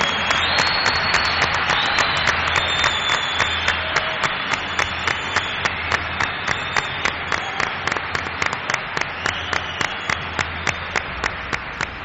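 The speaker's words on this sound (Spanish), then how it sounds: "pido un aplauso absoluto" Studio audience applause welcoming a guest on a Spanish paranormal talk show: sustained clapping runs throughout with a faint tonal hum beneath it and regular sharp ticks.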